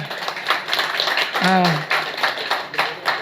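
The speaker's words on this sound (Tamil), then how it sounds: "ஒரு கைதட்டல் கொடுக்கலாமா?" An audience claps during an astrology talk, a steady run of claps heard beneath someone speaking.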